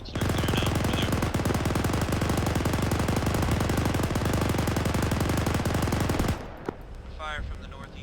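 Sustained rapid automatic gunfire in a military shooter, loud and close, dense continuous bursts for several seconds before cutting off abruptly into quiet background with faint voice chatter.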